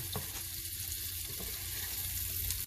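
Potatoes frying in a pan with onions, a steady close sizzle that holds evenly throughout before cutting off abruptly at the end.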